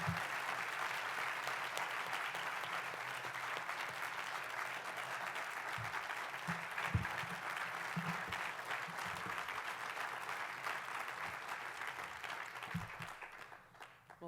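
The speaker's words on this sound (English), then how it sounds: "Please applaud yourselves on this happy day." Sustained applause from the audience at the inauguration of Dr. Sylvia Torti, a dense, steady wash of many hands clapping that holds for over ten seconds before tapering off at the end.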